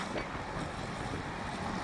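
Steady, loud wind roars and buffets without letup at Kanva Reservoir, Karnataka, a broad rushing noise with no voices.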